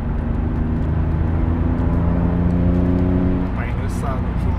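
Nissan 300 ZX twin-turbo engine runs loud and close with a steady low drone, and as the throttle lifts a brief rising whistle from the turbos cuts through near the end while someone talks over it.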